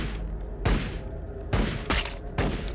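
Gunfire in the Warhammer 40k Battlesector video game: four sharp, loud shots crack at uneven intervals over a low rumbling battle ambience, with no talking during the volley.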